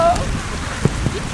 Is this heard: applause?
no